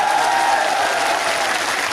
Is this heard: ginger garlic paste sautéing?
no